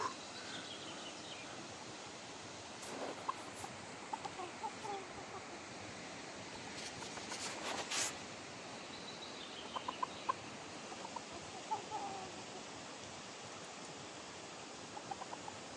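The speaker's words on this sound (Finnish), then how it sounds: "Noin ne kukot huolehtii pikkusista, ne ei hätyttele niitä mitenkään eikä." Roosters tending chicks in a garden flowerbed give faint, scattered clucks against steady outdoor background noise, with a few brief louder calls.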